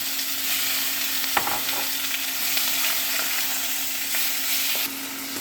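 Chicken pieces fry in a pan with a steady, loud sizzle and occasional pops and stirring clatter, close and continuous.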